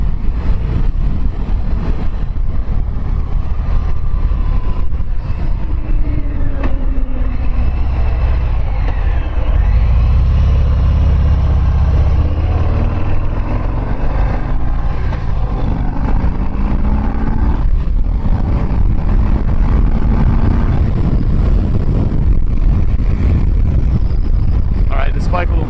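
A 2021 Harley-Davidson Fat Bob 114 rumbles under way, its engine a steady low drone blended with heavy wind rush throughout, with occasional rises as the bike pulls.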